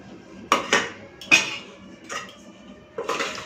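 Dishes and a serving spoon clink as rice is plated alongside a banana-flower and shrimp curry, followed by fish curry and dal; a few sharp metallic and ceramic knocks come in separated bursts, close by, with no talking.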